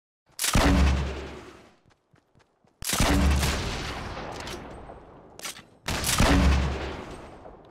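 Video game gunfire in three loud, close bursts of rapid shots, each fading into a reverberant tail, with brief pauses and scattered faint pops between them.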